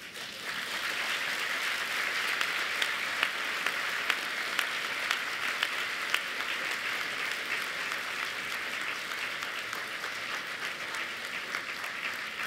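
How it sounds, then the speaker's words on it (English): Big sustained round of applause at a continuing-studies convocation, dense clapping from a large audience for the graduates' supporters, steady and loud throughout. "give a big round of applause to all the people who've been behind you"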